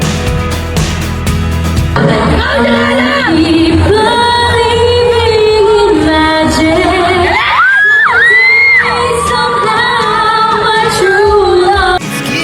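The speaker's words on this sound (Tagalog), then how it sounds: "Grabe hiyawan ulit at kinilig sa kanyang kanta ang mga estudyante." Students at a campus concert scream, whoop and cheer loudly and continuously, with high shrieks rising over a dense crowd roar that stays strong throughout.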